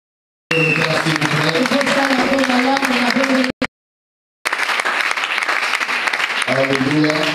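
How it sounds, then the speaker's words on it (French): A church congregation at a leaders' conference bursts into loud, sustained applause, with voices rising over it; after a short break of silence, a second strong round of clapping follows. "Nous acclamons le Seigneur Jésus-Christ."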